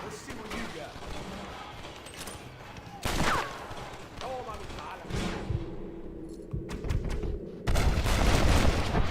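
Gunfire in the Red Dead Redemption video game on Xbox One: several loud, sharp reports scattered across a busy stretch of game sound, with louder bursts near the middle and the end.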